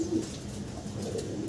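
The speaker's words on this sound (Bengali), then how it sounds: "আমরা ভাই দেখতেছি ব্ল্যাক কালারের এক জোড়া শৌকিং কবুতর" A pair of large black fancy pigeons coos at a market, with a steady, low, throaty cooing heard close and continuous, with no talk.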